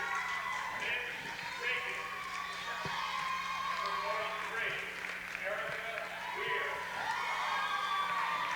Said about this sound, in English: you hear the cheers of the crowd for this East Brunswick team